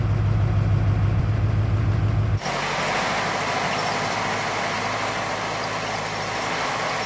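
A cartoon car engine idles with a low, steady rumble in a children's educational game, then gives way to a brighter, broadband whoosh that continues loudly to the end.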